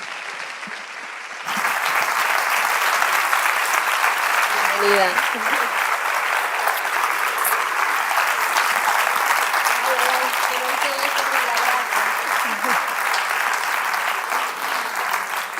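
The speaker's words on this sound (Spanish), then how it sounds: "Un aplauso, por favor" Studio audience applause on a live Spanish television talk show, a quieter opening moment then a sudden, sustained burst of loud clapping that continues steadily, with a presenter's voice speaking over it briefly.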